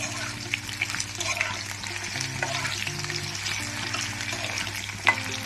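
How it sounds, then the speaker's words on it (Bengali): Diced potatoes fry steadily in a hot pan for a chola paneer dish, giving a continuous close sizzle with faint stirring and a single sharp clink near the end. "আলুটা ভাজা ভাজা হচ্ছে, দেখেন।"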